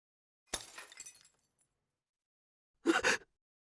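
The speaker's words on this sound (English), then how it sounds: "Was that the sound of breaking glass?" Glass breaking in the Chaos;Child video game: a loud, brief shatter with a scatter of trailing fragments, then a pause, followed by a second short, sharp crash of breaking glass, with no voices.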